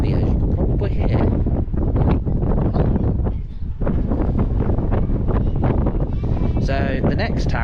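Strong wind buffets the microphone at the Harlech Castle viewpoint in north Wales, a loud continuous roar with gusty swells that barely lets up, and a voice talks faintly beneath it.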